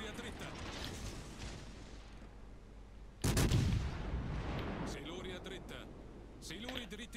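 Naval guns fire in World of Warships Legends, a heavy booming salvo that rolls out over rumbling engine and sea ambience, followed by smaller crackling impacts, with someone talking throughout.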